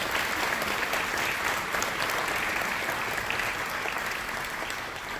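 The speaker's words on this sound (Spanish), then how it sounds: "Si lo crees, dale un aplauso fuerte a eso." A church congregation in Katy, Texas applauds loudly and continuously, a thick, even wash of clapping with no gaps.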